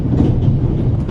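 Inside a train in the PS5 game The Raven, the carriage rolls along with a steady, loud, close rumble and no voices.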